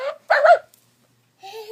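A puppy gives a few short yips and barks indoors during gift opening, close and moderately loud, in two brief bursts separated by a quiet gap.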